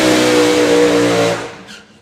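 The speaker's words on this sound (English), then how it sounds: "He's basically got an engine not even the third of the size of a top fuel engine" A nitro-fuelled Hemi racing engine, smaller than a top fuel engine, revs hard and loud nearby with a dense, rasping roar, then drops away and fades over the final half second.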